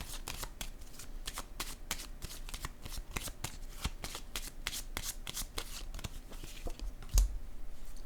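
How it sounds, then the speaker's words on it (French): Tarot cards in a reading being handled and laid down, a steady run of crisp papery flicks and slaps close by, with one firmer placement thump near the end. "Je vais déposer une carte sur elle par curiosité."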